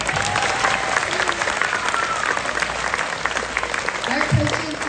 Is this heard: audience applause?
yes